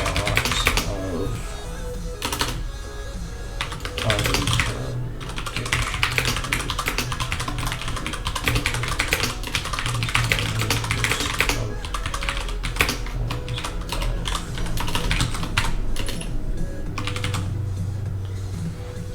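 Rapid, close-up clatter of a computer keyboard while code documentation is written, with bursts and short pauses in the keystrokes throughout, no talking.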